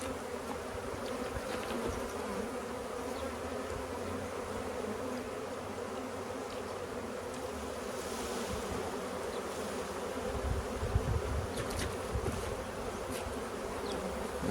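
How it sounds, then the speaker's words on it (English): A few honeybees hum steadily on a branch holding a couple of pounds of clustered bees. The buzz is dense and continuous, close and even, and never breaks off. "A few bees on there"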